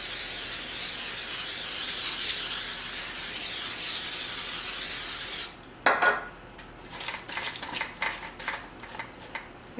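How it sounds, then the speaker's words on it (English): A can of olive oil cooking spray hisses in one long, steady burst, close and fairly loud, then stops and gives way to light kitchen clatter and rubbing. "I'm going to spray them with some olive oil spray too."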